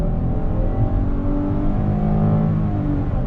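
A 2020 Chrysler Pacifica minivan accelerating hard on throttle from inside the cabin, with a steady, rising engine drone and road rumble as the 9-speed transmission drops down a gear smoothly, no talking.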